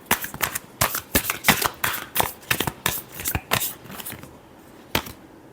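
Tarot cards shuffled by hand in a final riffle, a quick run of crisp papery flutters and snaps close to the listener, then a pause and one last tap, with no talk.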